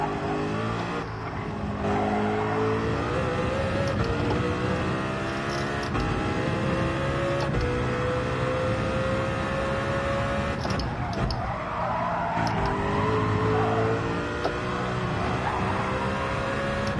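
Race cars in Gran Turismo 7 skid and roar, with sustained engine drone, shifting tire squeal and revving tones running continuously at moderate loudness.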